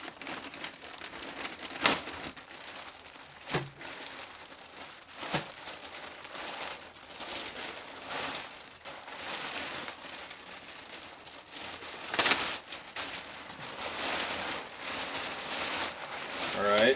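Crinkling plastic packaging being opened around a Sitka Dew Point rain jacket, irregular close rustles and sharp crackles with a few louder tears, while someone talks.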